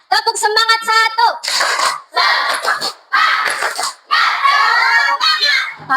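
A group of children in a classroom claps in a quick rhythmic pattern between loud chanted shouts, the claps and voices close and energetic.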